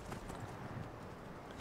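Horse hooves clip-clop steadily on a path in the video game Skyrim, a quiet continuous gait beneath broad outdoor noise.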